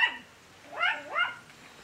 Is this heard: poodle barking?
yes